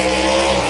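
An NHRA four-wide drag racing car gives a loud, dense, continuous roar in a short burst, with no voices.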